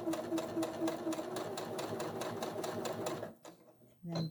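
A domestic sewing machine stitching forward on a small pleated fabric pouch, a steady rapid mechanical rattle for about three seconds before stopping, followed by a short quiet pause and a brief restart.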